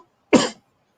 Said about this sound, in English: Oh, I just coughed.